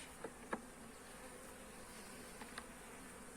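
Honeybees buzz in a continuous soft drone around a beehive while frames are handled, with a few faint clicks and taps rising briefly above the hum.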